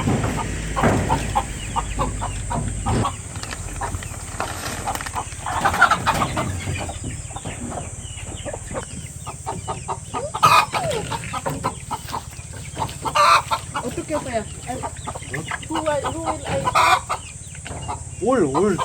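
Chickens on a rural property keep up near, busy clucking, with a hen among them and occasional louder calls and crowing over a steady background.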